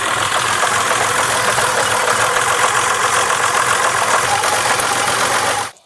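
A car engine, run while testing spark plugs for an engine fault, churns at a steady, loud cranking-like drone for nearly six seconds before cutting off abruptly.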